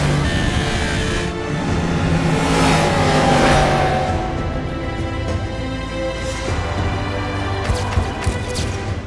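A 2015 Yamaha R1M superbike engine roars loudly and continuously, rising and falling in pitch as it revs, up close and alone with no talking.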